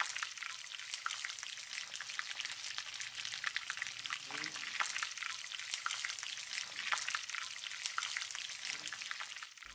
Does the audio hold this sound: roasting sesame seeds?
yes